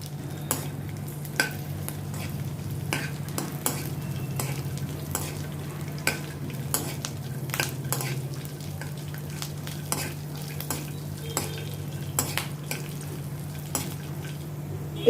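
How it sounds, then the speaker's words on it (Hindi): Peanuts roasting dry in a pan with two green chillies and curry leaves, giving a steady close sizzle broken by frequent sharp pops and crackles, with occasional stirring scrapes and no talk. "अभी ये पीनट्स चटकने लगे हैं।"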